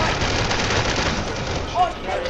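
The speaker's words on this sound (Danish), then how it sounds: "Skud!" Rapid gunfire in a first-person shooter video game rattles continuously through a short burst, loud and dense, with a player's voice talking over it.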